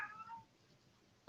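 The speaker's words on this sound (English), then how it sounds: "I hear that cat." A female cat in heat meows, one faint drawn-out call at the start and another beginning at the end, heard at a distance in a quiet room.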